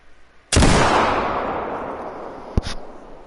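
A muzzleloader fired in theHunter: Call of the Wild, one loud close blast with a long rolling echo fading over a couple of seconds, then a short sharp mechanical click.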